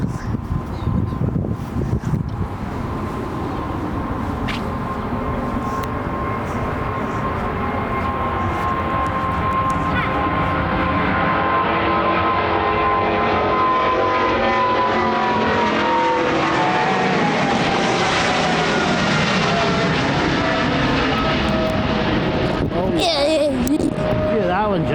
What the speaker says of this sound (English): More British Airways is coming, Jack.